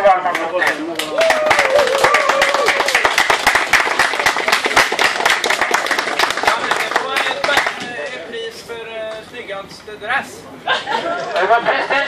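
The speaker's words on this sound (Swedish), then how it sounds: "Så lyft på alla tänkbara hattar och en riktigt stor och varm applåd till." Audience applause at a historic racing team event, steady clapping from a crowd for about eight seconds with chatter and laughter mixed in, then thinning to scattered claps and voices.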